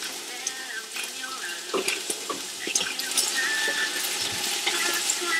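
Food sizzles steadily in olive oil in a pan while being stirred, a constant crackling hiss with scattered scraping clicks from the utensil, close and continuous with no talking.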